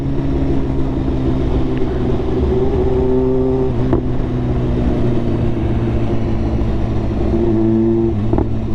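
BMW S1000RR motorcycle engine and exhaust while riding on open roads, a steady loud droning roar with shifting engine tones and brief pitch changes, close to the rider throughout.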